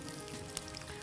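Bananas in batter fry in a pan with a soft, continuous sizzle and tiny pops, quiet and close, with a faint clink near the middle.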